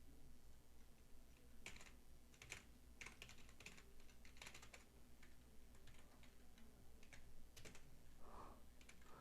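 Keys on a computer keyboard are tapped in quick irregular bursts and clusters, soft and close, over a steady low hum with no voices.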